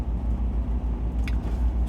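An RV rolls off after its brake is released, a close, low engine rumble pulsing steadily throughout the short moment, with a brief faint rattle partway through.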